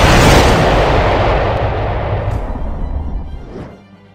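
A loud, sustained explosion with a dense broadband rumble, used as a Big Bang effect, rolling on for several seconds before fading at the end, with no voices.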